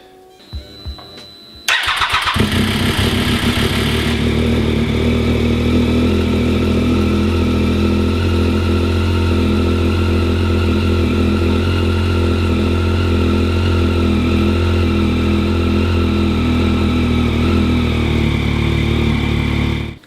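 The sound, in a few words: motorcycle engine starting and running after winter storage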